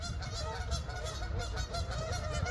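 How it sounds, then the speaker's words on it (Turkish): Ducks fighting, honking and squawking loudly and continuously, several birds calling over one another in a noisy, agitated chorus close by. "Ördekler kavga ediyor. Duyuyor musunuz sesleri?"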